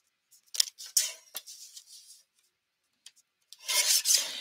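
Prefabricated card being cut down for a paper craft, close crisp scissor snips and rubbing scrapes in short bursts, a pause, then a longer rasping cut at the end.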